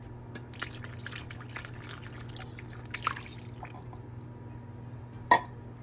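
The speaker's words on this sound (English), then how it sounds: "I'm adding my coconut milk" Coconut milk poured from a container onto eggs in a bowl for Jamaican cornbread batter, a soft liquid trickle with small drips and splashes, close and fairly quiet, ending in a brief louder splash.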